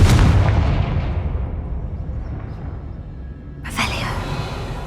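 Explosive blast from a fire-casting spell in the Hogwarts Legacy video game: a loud booming burst that rumbles and fades, followed by a second sharp crackling impact near the end.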